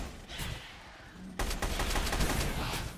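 Rapid gunfire bursts from players shooting raptors in the dinosaur shooter Orion: Dino Beatdown, a dense continuous fusillade that grows louder partway through, with no talk.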